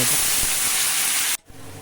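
Chopped onions hit hot oil with spices for a mutton curry and are stirred, giving a loud, dense, close sizzle that cuts off sharply before a quieter tail.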